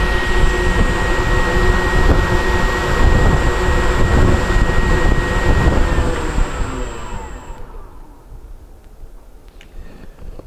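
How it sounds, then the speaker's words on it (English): An electric motor on a dynamometer runs below half throttle during a run-up test, giving a loud, steady whirring whine with a high tone that holds, then winds down and fades after about seven seconds, with no talk. "that's my run-up test on the dyno using the Overlander multifunction DC watt meter"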